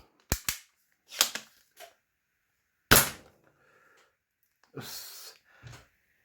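Several sharp pops from a toy dart blaster, spaced irregularly and fairly close, with short gaps of near-silence between them.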